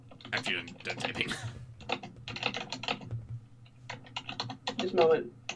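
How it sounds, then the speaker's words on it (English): Rapid keyboard typing in bursts of clicks, fairly close, with speech and background voices mixed in between the keystroke runs. "After you're done typing."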